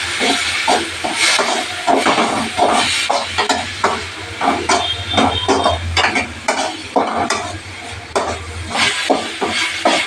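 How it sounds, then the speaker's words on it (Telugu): Curry leaves and ginger paste frying in a pan for home-style egg fried rice, with a steady sizzle broken by repeated scraping stirs of the spatula against the pan, close and fairly loud, no talking. "ఇలా కొంచెం మంచిగా ఫ్రై చేసుకున్నామండి"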